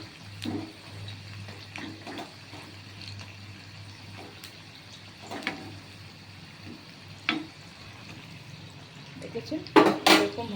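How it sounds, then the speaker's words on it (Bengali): Cauliflower pieces fry in oil in a pan, with a soft, steady sizzle, occasional stirring clatter and louder crackles near the end, while someone talks. "ভাজা হচ্ছে"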